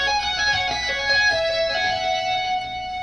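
Distorted electric guitar runs through a two-hand tapping lick on the first string with wide interval jumps played fast. Bright, sustained legato notes flow together without a break, heard clearly on their own.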